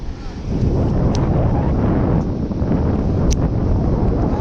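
Strong sea wind on Sagar Island in the Sundarbans buffets the microphone in a loud, steady low roar, a constant blustery rush with no clear pauses.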